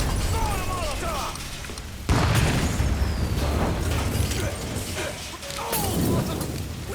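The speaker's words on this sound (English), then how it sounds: "Throwing a Molotov!" A Molotov cocktail thrown and bursting in Mafia III: Definitive Edition, a sudden whooshing flare of flame that roars on as a sustained rushing burn amid other combat noise, with shouted talk over it.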